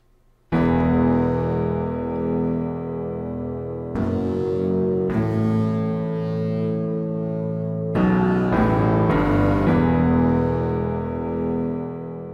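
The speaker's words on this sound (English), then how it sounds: "I came up with this lead that I duplicated onto three separate tracks, and it sounds like this." A synth lead melody layered across three duplicated tracks in a music production, sustained bright chords that change every few seconds, starting after a brief near-silence and staying loud and full throughout, with no voices.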